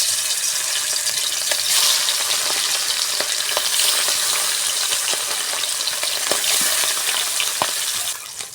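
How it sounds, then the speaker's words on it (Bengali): Marinated garfish frying in hot oil in a pan: a loud, continuous close sizzle with scattered sharp pops and spatters, holding steady before easing slightly at the very end. "তেল গরম হয়ে গেছে, এবার মাছগুলো ভেজে নেব।"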